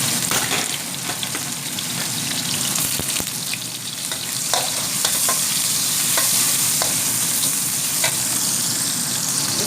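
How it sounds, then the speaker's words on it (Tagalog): Garlic and onion sizzling loudly in a hot pan for fried rice, a constant close frying hiss broken by repeated scraping of a spatula as the mixture is stirred, with no voices. "I-fry natin siya until golden brown."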